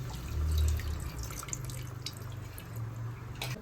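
Tamarind squeezed by hand in water for fish curry gives soft wet sloshing and dripping, close and quiet, with a low background hum and no talk.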